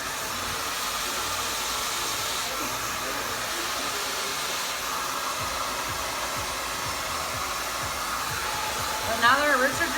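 A hair dryer blows steadily on medium-length hair at the roots, a loud continuous whooshing roar held close throughout, with a brief brush or handling sound near the end.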